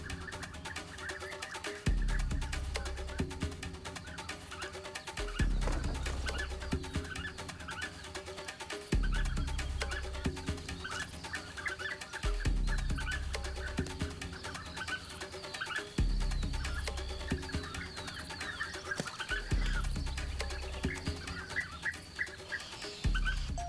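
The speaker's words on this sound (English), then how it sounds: "the bushes are alive with flirtatious chatter" Many birds chatter and call together in a busy, continuous chorus, with regular low thumping pulses repeating underneath every few seconds.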